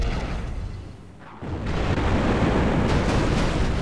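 In Star Wars Republic Commando, an explosion sets off a long, heavy rumble. It swells after a brief dip and keeps roaring loud and broad for several seconds.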